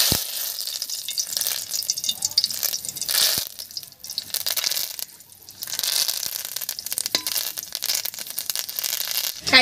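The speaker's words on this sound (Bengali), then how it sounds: "এই তেলের মধ্যে কয়েকটা কারি পাতা ভেজে নেব।" Curry leaves crackle and sizzle in hot oil in a pan, a steady bright frying hiss with brief dips, close and fairly loud, with no talking.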